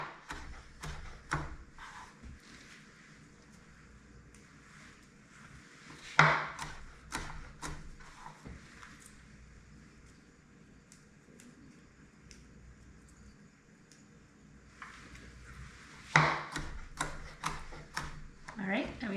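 A knife dices fresh broccoli on a cutting board in a home kitchen, producing sparse sharp taps with louder clusters of quick chops, while a person talks intermittently throughout.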